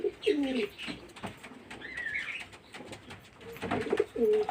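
Several pigeons cooing nearby, soft repeated throaty coos with a brief chirp in between.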